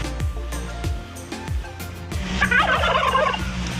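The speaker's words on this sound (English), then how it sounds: "Got turkeys." Turkeys gobble in a series of loud, close, rapid gobbles, one after another, with a burst of busier overlapping calling toward the end.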